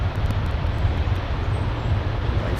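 An airliner is taking off at London Heathrow Airport. Its deep, steady jet roar is loud and constant throughout, with a low rumble underneath and no talking.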